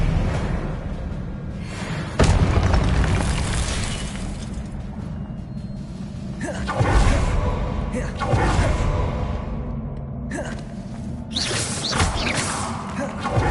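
Confringo spells burst with fiery, shattering impacts in the video game Hogwarts Legacy. Three or four loud bangs land several seconds apart over continuous game noise and clattering effects.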